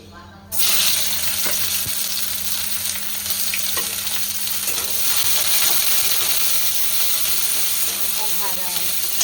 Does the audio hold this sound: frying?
yes